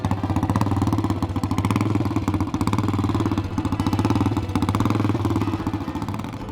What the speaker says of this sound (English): like this super rare Triumph Cub factory replica